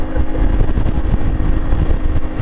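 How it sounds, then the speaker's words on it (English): A CF Moto 450 MT parallel-twin motorcycle running at high revs on a test ride, a steady close engine drone with pulsing low rumble and wind noise. "It definitely sounds like it's revving high."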